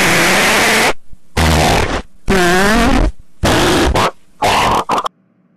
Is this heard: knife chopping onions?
no